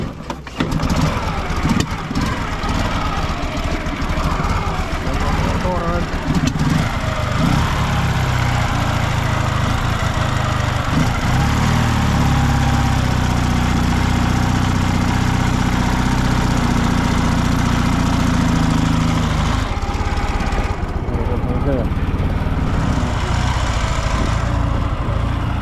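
A motorcycle engine on a bike loaded with panniers runs loud and close, idling roughly and then rising as the throttle is opened in sustained revs before dropping back near the end, with no voices over it.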